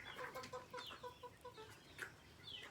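Chickens on a farm, some sick with a cold-related illness, give a steady run of soft repeated clucks and calls over a low background hum, with a slightly louder call near the end and no talking.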